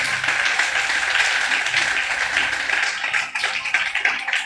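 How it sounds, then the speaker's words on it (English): A congregation claps loudly at a church ministers' retreat, a thick, sustained burst of many hands that stays strong throughout with slight dips and swells. "Can you make it? Can you clap big?"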